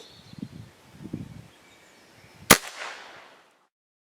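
A single sharp crack from a Kral Arms Puncher Mega air rifle, close and loud, followed by a brief fading echo, after a few soft rustling handling sounds outdoors in wind.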